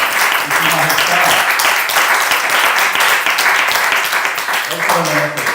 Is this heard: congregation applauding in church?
yes